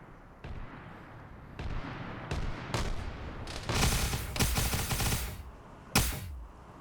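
Artillery booms and gunfire from a military video game mission crack out in scattered bursts, with several sharp, heavy reports spaced over a rumbling, continuous battle backdrop.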